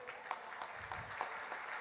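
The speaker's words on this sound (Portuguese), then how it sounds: "uma salva de palmas para ele" Applause for a president at a live music show in Madeira, steady clapping from an audience at moderate distance, faint and continuous throughout with no voices over it.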